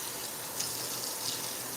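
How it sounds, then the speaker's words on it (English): Hot tap water runs steadily over cooked noodles in a kitchen sink, a soft continuous hiss and splash at moderate level with no talking. "If your noodles are real sticky, rinse them with hot water"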